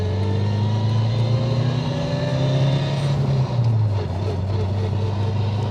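Modified Ford Escort Cosworth engine heard from inside while driving, a loud steady droning growl with a deep low hum that shifts pitch slightly as it changes speed, continuous throughout.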